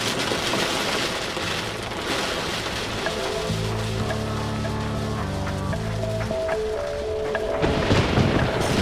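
Hail pounds down hard during a tornado-warned storm in Aspermont, Texas, a loud, dense, steady roar of stones striking surfaces up close, with no let-up through the whole stretch.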